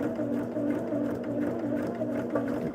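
A sewing machine runs in a steady even hum, stitching a curved seam on a quilt block, close and moderately quiet with a faint rhythmic whir throughout and no speech.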